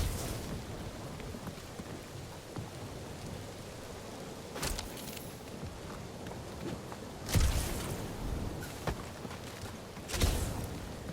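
Steady rain hiss from the video game Guardians of the Galaxy, a continuous wash of falling water with a few louder crackling bursts like distant thunder rolling in and out.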